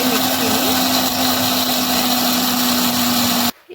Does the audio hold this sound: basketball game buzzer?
no